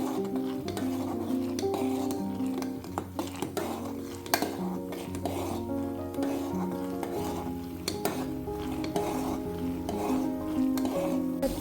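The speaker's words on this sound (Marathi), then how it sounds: "तूप उकळायला लागतं" Continuous soft sizzling and bubbling of homemade ghee boiling in a pan, with occasional light scrapes of a utensil against the metal.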